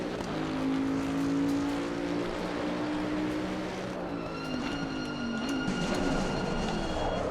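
A race car in Assetto Corsa Competizione runs continuously, its engine note climbing through the revs and dropping at gear changes, with a high whine joining midway.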